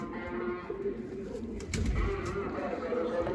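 Pigeons give low rolling coos up close, a continuous throaty burble that swells louder in the second half.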